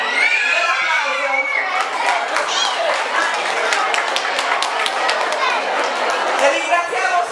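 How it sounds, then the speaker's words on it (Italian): A carnival crowd at a village festival in Gonnostramatza applauds and cheers while children shout, a loud, continuous mix of clapping, whoops and high excited voices close by. "Un applauso."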